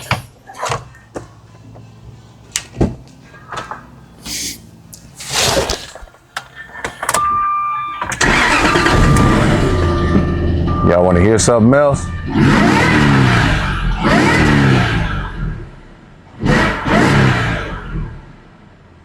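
A 2004 Jaguar V8 engine cranks, catches and revs up, then settles into a loud running rumble with more revving bursts; someone talks briefly beforehand amid clunks.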